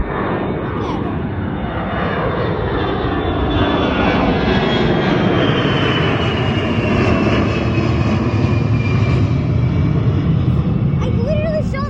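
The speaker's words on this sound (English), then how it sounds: "Look at the plane, it's over there." A Spirit Airlines passenger plane passes low overhead on its way to Charlotte, a loud, steady engine roar filling the whole span with a slowly shifting whine, close and dominant.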